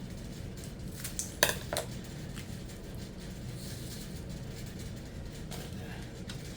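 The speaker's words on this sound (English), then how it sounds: "Stir it up." A spoon stirs eggless coffee cake batter in a bowl, making soft scraping and a couple of sharp clinks against the bowl, fairly quiet and close, with no talking.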